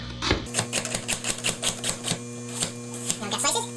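Rapid series of sharp knife chops on a cutting board while food is being cut up, the strikes coming in an uneven steady rhythm over a constant low electrical hum, close and fairly loud.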